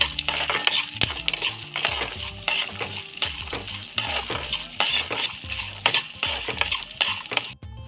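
Chana dal, urad dal, mustard seeds and cumin fry in hot oil as a tempering, giving a close crackle of sharp pops and ticks over a steady sizzle, with a metal spoon scraping and stirring the pan.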